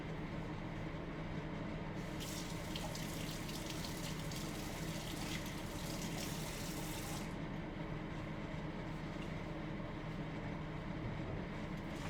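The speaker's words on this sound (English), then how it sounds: "Let me just put this down for a second and rinse off my hands." Tap water gushing steadily into a sink for the whole stretch, with a brighter splashing rush in the middle few seconds as hands are rinsed under the stream, close and loud, no talking.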